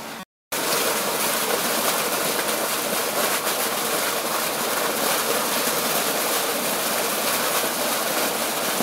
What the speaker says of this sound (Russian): Так, я узнал, что вода там сильно идет.